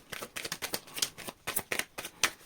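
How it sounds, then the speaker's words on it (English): A Christmas-themed tarot card deck being shuffled by hand, a quick series of crisp riffling bursts in an uneven rhythm, close and fairly quiet with no talking. "Last shuffle."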